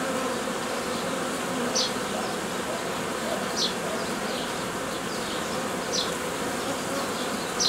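Honey bees buzz steadily around an open hive while the pollen trap is being removed, a dense, continuous insect drone with a few brief louder passes close by.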